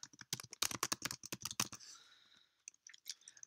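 Close, crisp keystrokes on a computer keyboard come in a rapid burst while Swift code is written in Xcode, then a short pause, then a few lighter taps.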